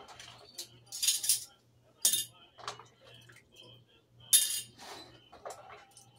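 Metal jar lids for Christmas jam clink and jangle in quick bright bursts as they are gathered together, with quiet pauses between handfuls and a low steady hum underneath.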